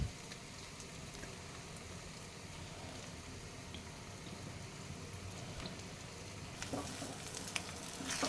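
Eggs, six of them, fry in oil in a pan for a Rayalaseema-style egg fry, giving a steady, even sizzle throughout with a slight rise in crackle near the end; no one speaks.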